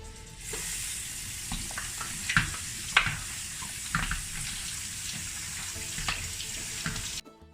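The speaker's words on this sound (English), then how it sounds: "We're going to wash them." Potatoes are rinsed under a running kitchen tap, a steady rush of water with intermittent splashes and knocks as they are turned in the stream, close and without talk.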